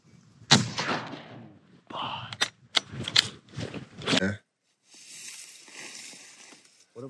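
Shotgun blasts while duck hunting outdoors, several sharp, loud reports in quick succession over a few seconds, followed by a quieter hiss of wind or rustling.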